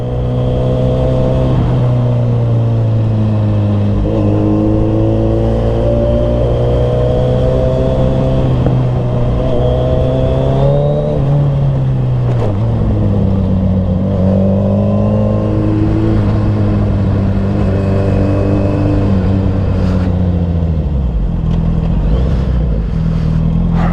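Suzuki Hayabusa sport bike engine revving hard while riding, loud and close, pitch climbing through gears and dropping on shifts, with wind rush and no talking.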